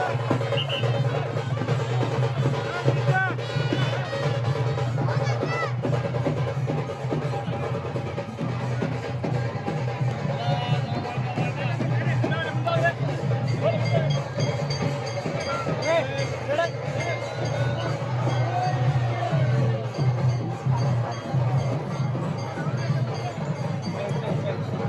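Crowd at the entrance of Mahabaleshwar temple in Gokarna, a steady, loud hubbub of many overlapping voices and babble that carries on without a break from start to finish.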